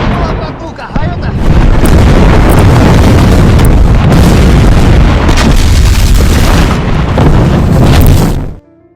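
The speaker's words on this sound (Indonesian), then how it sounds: "Kini serangan artileri yang diluncurkan lebih tepat sasaran." Loud, continuous artillery shell explosions from a war film about the 28 Panfilov men battling on the Eastern Front, heavy booms rolling one into another for several seconds, dense and close, before cutting off abruptly.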